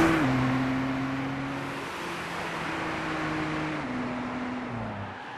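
A 2012 Nissan GT-R at full speed on a fast lap, its engine a loud, steady droning tone that dips in pitch at a few gear changes and keeps pulling with no talk over it.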